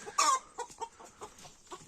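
Farm chickens and hens give a few short, quiet clucks in quick succession at close range, with one louder cluck near the start.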